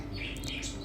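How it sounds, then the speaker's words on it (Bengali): Birds chirp in a few quick, high calls near a home kitchen where mutton curry is being cooked, brief and fairly soft over a low steady background hum. "পাখিগুলো আমার সাথে কিচিরমিচির কিচিমিচি হয়তো তোমরা শুনতেও পাচ্ছ"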